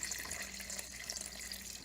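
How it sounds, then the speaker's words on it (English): Water poured into a pot of beef stew on the stove, a steady continuous splashing rush of liquid filling the pot, close and moderately loud throughout with no talking. "I'm going to go ahead and add 4 cups of water."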